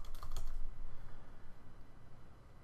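Someone types an admin password on a computer keyboard while configuring an Avaya phone system: a quick cluster of sharp key clicks at the start, then softer, lighter tapping under a low room hum.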